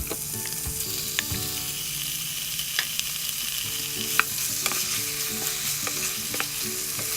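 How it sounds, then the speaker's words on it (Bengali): Onion and chicken breast cubes fry in a pan with a spice mixture, a continuous close sizzle broken by frequent stirring clicks and scrapes, no talking. "ভালো করে পেঁয়াজ আর চিকেনকে এই সব মিশ্রণের সাথে ভেজে নিতে হবে এদিক ওদিক"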